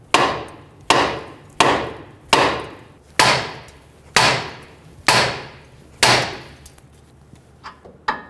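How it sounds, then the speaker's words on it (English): A hammer strikes a steel steering knuckle to free a corroded outer tie rod, eight sharp, ringing metallic blows at a steady pace, loud and close, followed by a couple of lighter taps. "Using a hammer, we're going to hit in this area to release the corrosion or the tension on the outer tie rod and release it from the knuckle"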